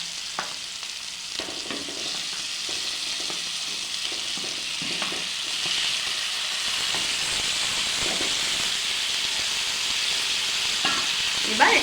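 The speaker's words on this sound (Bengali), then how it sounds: "মশলা থেকে তেল ছেড়ে গেছে, আমরা এবার ম্যারিনেট করা চিকেনটা দিয়ে দেবো।" Marinated chicken sizzles in hot spiced oil for Bengali chicken kosha, a steady close frying hiss with occasional stirring scrapes throughout.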